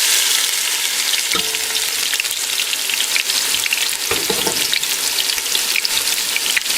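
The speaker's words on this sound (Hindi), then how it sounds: "जब ये पूरी तरह गर्म हो जाएगा तो हम इसमें बारीक कतरी हुई प्याज डाल के हल्की ब्राउन करेंगे" Finely chopped onions fry in hot oil, giving a steady, loud sizzle with occasional stirring scrapes and clatter throughout.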